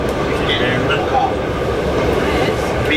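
A Swiss passenger train runs along with a steady, loud rumble and rattle throughout, heard from inside the carriage with a constant roar and no breaks.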